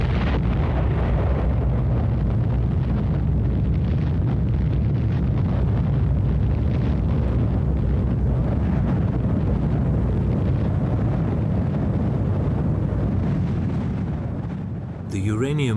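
A deep, sustained roar from the Little Boy uranium atomic bomb exploding over Hiroshima, a loud continuous rumble with wind-like turbulence that holds steady for about fifteen seconds before easing at the end.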